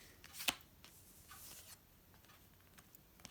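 Soft papery riffling of tarot cards being shuffled nearby, with a sharp snap early on and light rustles continuing quietly.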